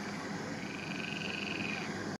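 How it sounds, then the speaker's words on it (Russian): Toads croaking in a dense, steady chorus from wet off-road ground beside a moving stock UAZ convertible, continuous and moderately loud with a faint engine hum beneath. "Жабы квакают красиво."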